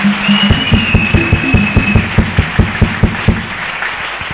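A church congregation claps together in a steady beat during a French-language testimony service, sharp evenly spaced strikes about four per second, fairly loud and close, with a faint high whistle over the first half.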